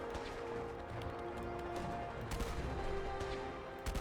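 Cannon fire in Fallout 4, with heavy booms and crashes layered over a dense, continuous wash of battle noise and gunfire, loud throughout.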